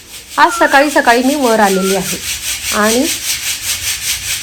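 Chickpeas fresh from the farm are shaken through a sieve, giving a steady dry rasping hiss throughout while someone speaks close by.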